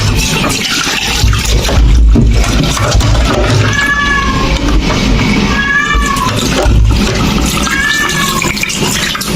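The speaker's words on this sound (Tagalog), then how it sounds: "Mga pusa natin mga partner" Cats meowing in a home kitchen, three or four distinct, fairly close meows spaced a couple of seconds apart, over a background of running water and kitchen clatter.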